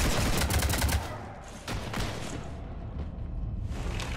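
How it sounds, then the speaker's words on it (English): Rapid gunfire in Mass Effect 3 on the Citadel, a dense burst of shots aimed at a ship, loud and continuous for the first second, then thinning into scattered reports over a rumbling in-game background. "You want to stop shooting up my ship?"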